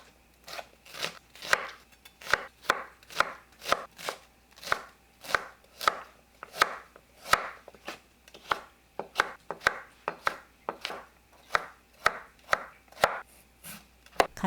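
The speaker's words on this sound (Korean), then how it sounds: "파프리카 3분의 1개, 양파 작은 거 1개, 당근 5분의 1개를 잘게 썰어 주세요" Paprika, onion and carrot are finely chopped with a knife on a cutting board, a close, steady run of sharp crisp knife strikes at a brisk even pace, with no voices.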